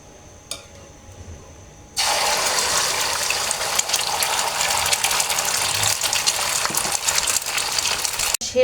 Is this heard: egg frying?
yes